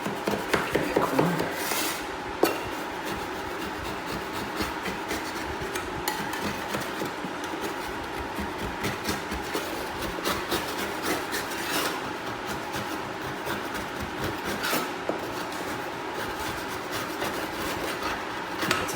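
Continuous scraping of dried mud from a windowsill damaged beneath a window air conditioner, loud and close, with steady rasping strokes and an occasional sharp knock from the tool.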